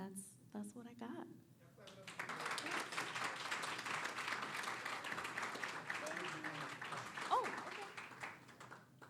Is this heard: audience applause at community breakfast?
yes